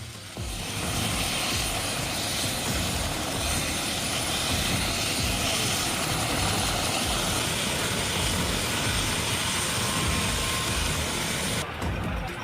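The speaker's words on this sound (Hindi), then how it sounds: "सेना का MI-17 हेलीकॉप्टर जैसे ही वायुसेना का हेलीकॉप्टर झमली खेड़ा हवाई पट्टी पर लैंड हुआ" An Air Force Mi-17 helicopter lands on an airstrip, its steady, loud rotor and engine roar continuous and close throughout, with no voices.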